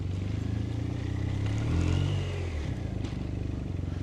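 A BMW R1250RS motorcycle with 8,000 km on it idles softly and smoothly, a low steady engine rumble with an even pulsing beat, close by and uninterrupted.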